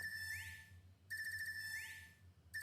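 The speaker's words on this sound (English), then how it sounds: "I need you to change this ringtone. This is awful." A phone ringtone from the game Trails of Cold Steel III trills in bright electronic bursts, two full rings and the start of a third, clear and fairly quiet with nothing else over it.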